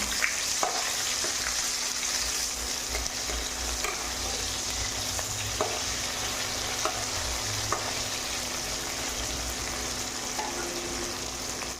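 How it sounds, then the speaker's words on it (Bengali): Chopped onion frying in oil with a dried chilli and a bay leaf, a continuous even sizzle heard up close with a few faint clicks. "কুচি করে রাখা পেঁয়াজ দিয়ে দিচ্ছি পেঁয়াজটাকে আমি লাল করে ভেজে নেবো"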